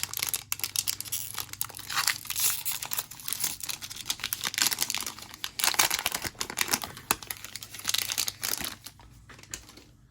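A foil trading card pack, a Loki set from Upper Deck, is torn open and handled up close, with a steady run of loud crinkling, ripping and crackling bursts lasting throughout, no voice.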